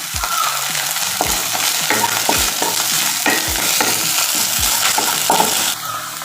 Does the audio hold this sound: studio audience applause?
no